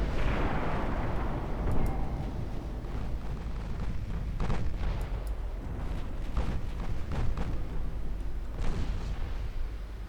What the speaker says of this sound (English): Five-inch guns on these are actually doing a pretty good job.